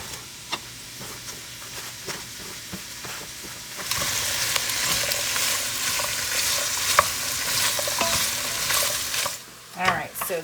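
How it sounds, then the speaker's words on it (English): Mixed vegetables fry in avocado oil and leftover fat in a pan for a keto cheeseburger soup, a steady close sizzle that swells louder partway through, with occasional stirring scrapes and clinks. "I'm going to add some avocado oil and then dump my veggies in"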